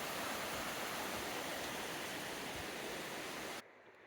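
A mountain creek flows through forest, a steady broadband rush of water close by that cuts off abruptly near the end.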